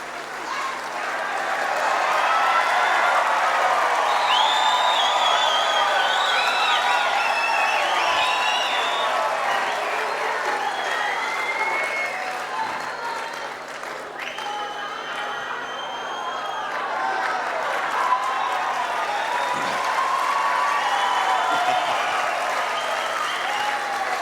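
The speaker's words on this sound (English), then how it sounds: "Give them a round of applause, please." A large crowd in the hall at the Golden Shears open shearing final breaks into sustained applause with scattered cheers and shouts, loud and continuous for over twenty seconds before easing slightly and swelling again.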